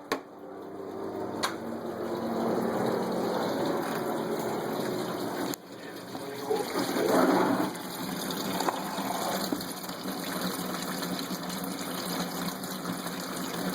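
Coolant gushes and pours out of a Chevy pickup's 5.7 L radiator with the cap off, a steady splashing stream that briefly drops and then resumes and continues at close range.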